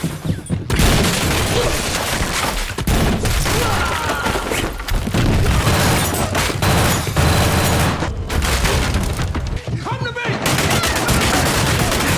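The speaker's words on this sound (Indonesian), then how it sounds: "Di tengah ratusan peluru yang berterbangan, Walker dengan cerdas mengincar satu persatu" Heavy, sustained gunfire from an action film, with rapid bursts and booming shots, loud and continuous throughout, with faint voices mixed into the barrage.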